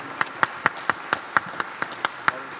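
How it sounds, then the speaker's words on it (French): Slow, evenly spaced hand claps, about ten of them, sound at moderate volume against a faint background hum. "On vous applaudit chaleureusement."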